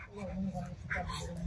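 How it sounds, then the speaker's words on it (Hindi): A two-year-old male Indian Mastiff Bully dog at a wholesale dog market gives brief faint whimpers and yips close by, mixed in with people talking. "ये इंडियन मैस्टिफ बुल्ली कुत्ता है जी।"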